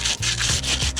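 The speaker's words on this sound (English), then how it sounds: "we're gonna have to sand this off." Rhythmic rasping of sandpaper rubbed back and forth over an old car suspension bushing on a Lexus, close and steady strokes with no talk.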